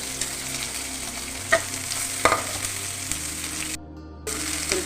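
Garlic and ginger fry in a pan with a steady, close sizzle, broken by occasional scrapes and clinks of stirring and one brief drop in sound.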